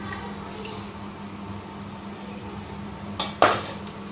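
A metal spoon is lifted out of a kadhai and knocks against it, making two sharp, close clinks near the end after a stretch of steady kitchen hum.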